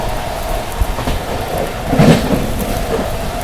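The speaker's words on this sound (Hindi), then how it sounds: "ये देखो भाई कितनी तेज बारिश हो रही है भाई" Heavy rain during a storm, heard from inside a moving Amrit Bharat Express train in India, with constant rushing and rumbling and a louder surge partway through.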